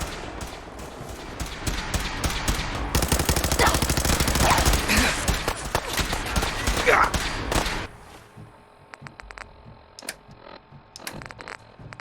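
Sustained rapid automatic gunfire in Fallout 4, loud and dense for several seconds and then thinning into scattered single shots, with voices talking over it.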